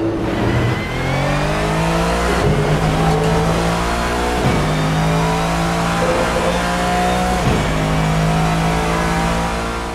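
A GT-M race car engine in the Assetto Corsa video game roars loud and close, climbing in pitch as it revs, with sharp gear shifts that briefly cut and drop the tone before it pulls upward again.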